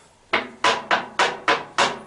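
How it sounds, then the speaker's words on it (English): Six sharp metallic clanks land in a quick, uneven rhythm, each ringing briefly before the next: a snuff can in a shirt pocket tumbling in a running clothes dryer. "That is the sound of a snuff can in a pocket."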